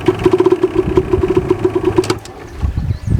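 A motorcycle engine idles with a steady, fast mid-pitched putter, then dies abruptly as it is put into gear without pulling the clutch, leaving a brief quiet and faint low rumble; loud and close, no talk.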